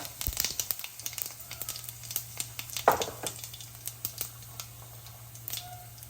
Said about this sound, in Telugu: చూసారా ఆవాలు చిట్పట్టమంటున్నాయి